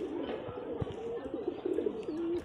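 High-flying Bajir pigeons from Rajshahi coo close by, a soft, throaty warbling that rises and falls in short phrases over faint room noise.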